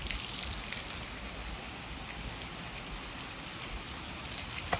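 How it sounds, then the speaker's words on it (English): Heavy, unrelenting rainstorm, a dense steady hiss of rain pouring down across the whole stretch, fairly faint and even with no voices. "It's just a rainstorm that won't stop."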